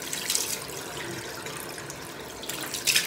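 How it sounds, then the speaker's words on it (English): Tap water runs steadily while something is rinsed under it, a close, continuous splashing hiss with small surges, and no talking. "And we're just going to go ahead and rinse."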